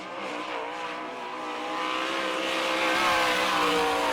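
Number 20 sprint car on a dirt track at a winter nationals race, a loud high-pitched engine wail that climbs steadily in pitch and volume as the car accelerates, alone without talk.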